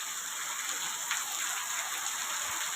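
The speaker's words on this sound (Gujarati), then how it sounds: "કેવો પડે વરસાદ. કાંઈ ઘટતો નથી એટલો વરસાદ પડે." Heavy monsoon rain pours down steadily in early July, a dense, even hiss of falling water and drops with no letup throughout.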